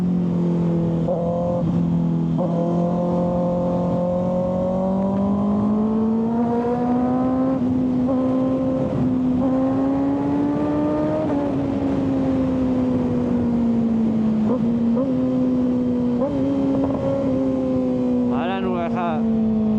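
Kawasaki ZX6R 636 sport motorcycle ridden at high speed, its engine a loud, continuous drone whose pitch climbs, eases and dips again with throttle changes, under a layer of wind rush.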